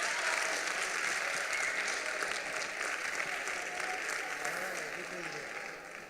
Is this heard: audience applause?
yes